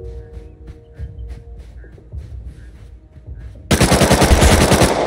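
Automatic gunfire from the video game Rust Console Edition bursts in abruptly near the end, loud and continuous with rapid shots, after a quieter stretch of game ambience.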